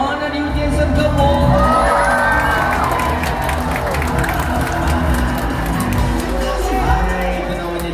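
Audience applause and cheering at a dolphin show at Ocean Dream Samudra Ancol, a large crowd clapping and whooping with children shouting, loud and sustained throughout, with bright whistles rising above the crowd.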